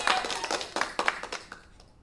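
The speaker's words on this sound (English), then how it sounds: "let's give a round of applause for some research being done right there" A short burst of hand clapping, about a dozen quick claps close to the mic that thin out and stop, with no voices.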